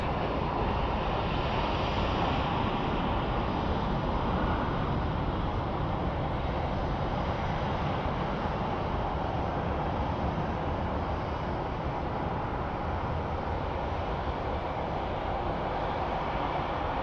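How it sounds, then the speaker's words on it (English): A Contour Air Embraer jet takes off at Phoenix Sky Harbor airport, a sustained broadband engine roar with a wind-like rush that stays loud and steady throughout. "And there we have a Contour Air Embraer that's taken off."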